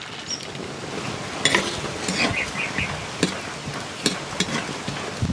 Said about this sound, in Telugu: ఇప్పుడు ఇదే నూనెలో పల్లీలు కూడా వేయించుకుందాం.